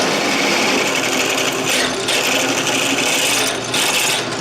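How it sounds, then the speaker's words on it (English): A drill boring holes for a 15-inch gauge trolley build: a steady high-pitched grinding whir, close and continuous, with slight dips as the bit cuts through. "Now were the drill larger or more quickly turning, I might have to clamp this down in place for each of these holes"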